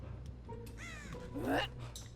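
A crow in the video game Dead by Daylight lets out a couple of harsh, rising caws over a low background hum, fairly quiet and brief.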